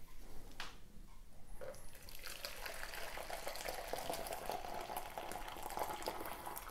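Hot water pours from an old, worn plastic jug, a steady close liquid stream with a hissing, bubbling texture that starts after a brief pause and keeps running.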